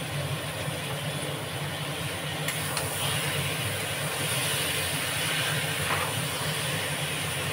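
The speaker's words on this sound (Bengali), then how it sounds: "সয়াবিনটা একটু কষে নিই।" Soy chunks sauté in hot oil in a pan, giving a loud, continuous sizzling hiss close by that stays steady throughout.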